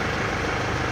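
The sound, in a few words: car engine idling at stable RPM with AC on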